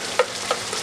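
Green curry paste being stirred into seared chicken in a hot pan, a couple of soft scraping strokes over a steady low sizzle, close and brief with no voices.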